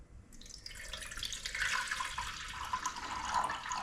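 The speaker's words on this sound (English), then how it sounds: "I'm going to pour it into the ultrasonic cleaner." Vinegar cleaning solution is poured into an ultrasonic cleaner during regulator servicing, a steady hissing, splashing stream of liquid lasting several seconds at close range with no talking.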